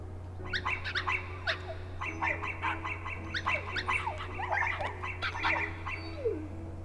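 Many dogs from the video game Kingdom Hearts bark rapidly in dense overlapping bursts, with short yaps and whimpers close together and no speech.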